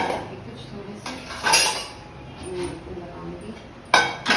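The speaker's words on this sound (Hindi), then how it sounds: "ऑयल डालने के बाद मैंने ये दोनों बोतल धो के रखी, ये बर्तन के कुछ थोड़े से" Dishes, pots and utensils being washed, with two plastic bottles rinsed in a home kitchen, bringing clattering clinks and knocks, a louder clank midway and another near the end over a background of running water.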